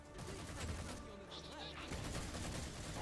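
Gunfire in the Halo 4 video game, a steady rattle of rapid shots running throughout under a speaking voice and game sounds.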